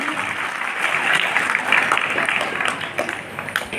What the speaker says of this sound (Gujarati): તાળીઓનો ગુંજરાવ આપણે ચાલુ રાખીશું